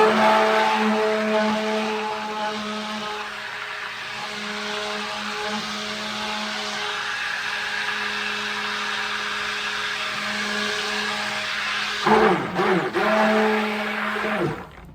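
A Nutribullet blender runs loud and steady with a droning motor whine throughout, its pitch dipping and wavering briefly near the end as the load shifts.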